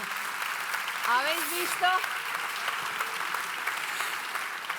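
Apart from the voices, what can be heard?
audience applause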